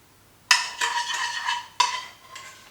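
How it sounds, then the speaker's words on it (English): A metal spoon clinks and scrapes around a bowl while simple syrup for a lemon cake is stirred, two sharp ringing strikes each trailing into a shimmering scrape, close and clear over a quiet room. "So give it a stir around."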